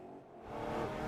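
Racing cars in a GT4 European Series race in Germany on a slippery, wet track, engines building to a loud, steady roar as one car chases and dives inside another.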